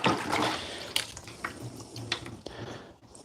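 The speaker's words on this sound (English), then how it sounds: "Let's give this a little rinse off." Water splashes and runs over a carbon fiber bike frame during a rinse-off, with a fairly close, uneven spray and occasional sharper knocks and drips, no talking.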